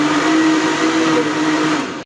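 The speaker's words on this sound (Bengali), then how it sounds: "এরপর ঠান্ডা পানি অ্যাড করলাম এবং সব মিশ্রণগুলা খুব ভালোভাবে আমরা ব্লেন্ড করে নিচ্ছি" A blender whirs loudly and steadily for about two seconds, churning borhani ingredients with cold water, then stops abruptly.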